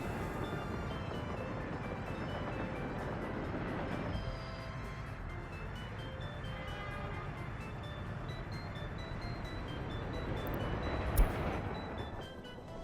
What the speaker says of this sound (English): Alright, that train is loading up.